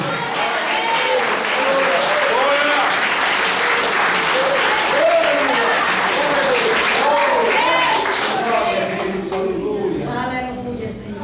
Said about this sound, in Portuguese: Quem crê assim, dê um aplauso ao Senhor Jesus